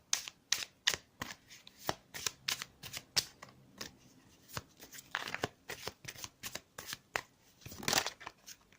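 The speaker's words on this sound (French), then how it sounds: "je vais battre les cartes." Tarot cards are shuffled up close in a string of crisp, sharp riffles and slaps, irregular bursts with brief gaps between them.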